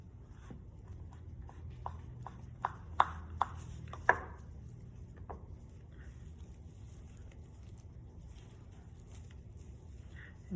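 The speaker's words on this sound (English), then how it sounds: "you can just take a knife and just cut it" A knife chops through stringy cooked beef for beef and cheese pupusas, a run of sharp taps on a cutting board that quicken and then fade to quiet room noise.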